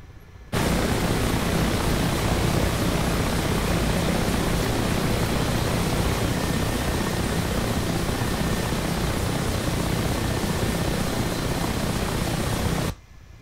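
A Mi-8 cargo helicopter in flight gives a loud, steady, broadband rotor and turbine roar that holds unbroken from start to finish, with no voices over it.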